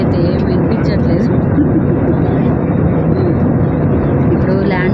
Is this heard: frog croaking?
no